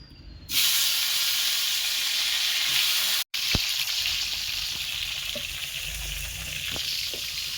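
Hot oil sizzles loudly and evenly in a wok just after fish has been fried in it, a dense close hiss that stays steady throughout apart from one brief cut, with a few soft clinks.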